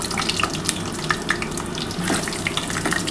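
Potatoes fry in hot oil after cumin seeds, giving a constant close crackling sizzle with small irregular pops, heard on its own without any talk.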